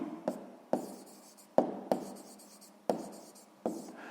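A pen writes a math equation on paper in a sixth-grade lesson, giving six or seven sharp, separate strokes spaced through the passage, close and fairly quiet with no talking.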